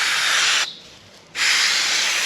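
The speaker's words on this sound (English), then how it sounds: "Pink spray." Pink marker paint is sprayed from an aerosol can onto a sheep during lambing. There are two loud, close hissing bursts with a short pause between them.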